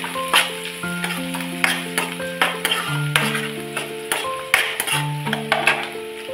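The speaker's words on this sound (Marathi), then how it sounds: "त्यामध्ये आपण टाकूया कांदा आणि कांदा सुद्धा मस्त असं परतून घेऊया" Onions frying in a pan with garlic already golden, a steady close sizzle broken by repeated scrapes and clinks as a spoon stirs them, with no talking.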